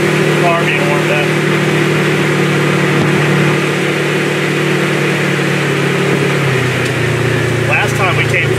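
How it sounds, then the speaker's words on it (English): The engine of a Polaris RZR side-by-side idles while warming up, a loud, steady close-up drone with a low hum that shifts slightly in pitch partway through. A voice can be heard faintly under the engine. "Warmed up a little, the engine being hot, car being warmed up."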